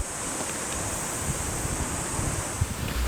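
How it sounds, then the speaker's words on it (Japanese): Continuous rushing water flows steadily outdoors on the mountain side of the sidings at Bingo-Ochiai Station, a broad hiss with faint wind noise and no voices. "何本かある側線の山側から水の音"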